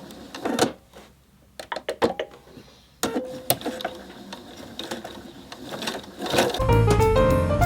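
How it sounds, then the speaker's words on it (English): A home sewing machine stitches fabric for a blouse at a small stitch length, with short mechanical runs and clicks that start and stop, ending in a louder steady whir. "So just across, there's only a couple of stitches. I'm going to go back just to secure that."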